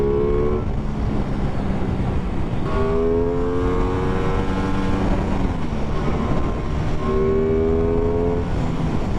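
An Aprilia Tuono 660 motorcycle, a 70 kW version with no quickshifter, pulls hard through the gears, its engine note climbing in repeated rising sweeps, each upshift clearly separated, loud and steady against wind rush.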